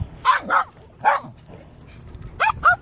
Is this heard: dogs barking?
yes